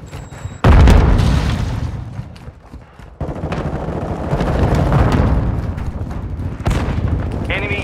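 A Semtex grenade blast amid gunfire in Call of Duty Modern Warfare 2 multiplayer, a heavy boom followed by steady rattling shots and explosions, loud and close, with game voice callouts over it.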